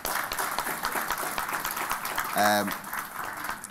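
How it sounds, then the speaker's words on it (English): Applause from a conference crowd at the Open Minds 2019 gathering, a steady wash of clapping under crowd murmur that lasts the whole stretch, with one brief sharp tonal burst partway through. "keep the applause going for Trevor and the Open Minds team"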